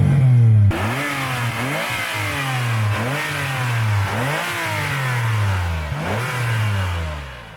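A Ferrari 456GT V12 fitted with a 2B style exhaust, revved repeatedly at standstill: a sharp blip, then a series of rising and falling sweeps in a steady rhythm, loud and close with no voices.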